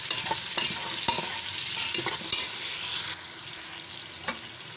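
Tomatoes and green chilies hitting a pan of browned onions, giving a steady sizzle with scattered stirring scrapes and clicks, moderately quiet and close, with no talk.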